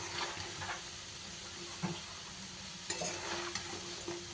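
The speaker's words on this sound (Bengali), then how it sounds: "আর বেশ রঙও ধরে গেছে ভাজা কিন্তু আমার প্রায় হয়ে এসেছে" Kucho goja sweets frying together in oil over a large gas burner, a steady close sizzle broken by a few sharp clinks of stirring.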